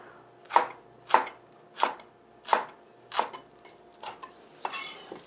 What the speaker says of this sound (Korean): 대파는 어슷썰기를 해서 넣어주세요